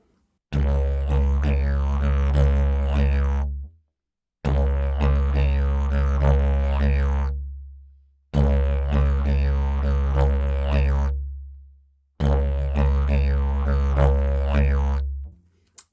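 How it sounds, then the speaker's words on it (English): Didgeridoo playing a five-eight rhythm: a deep, loud drone with pulsing overtones, in four long phrases that each fade out before a brief breath gap, with no speech. "through the didge, it would sound something like this"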